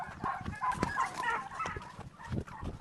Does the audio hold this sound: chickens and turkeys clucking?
yes